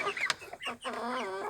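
A hen clucks up close in a short burst of rising, warbling calls, loud against a quiet farmyard background.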